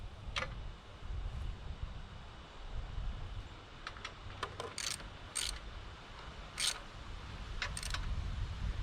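A torque wrench clicks repeatedly while tightening bolts on an Alaskan chainsaw mill, producing a handful of sharp, bright ticks scattered over a steady low background rumble, close and moderately loud.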